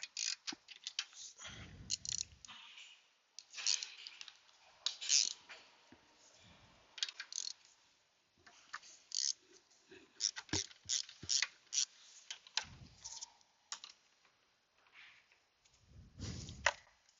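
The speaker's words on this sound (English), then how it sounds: "Let's take that ratchet back." A ratchet wrench turns a bolt on a 1998 Oldsmobile Cutlass, heard as close, irregular bursts of quick clicking separated by short pauses, with occasional low thumps from the tool and parts.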